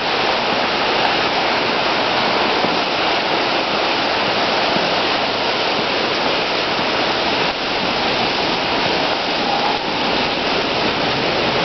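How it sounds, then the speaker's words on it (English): Steady, loud roar of rushing water, like a nearby waterfall, continuous and unbroken throughout with no voices. "A lot of water."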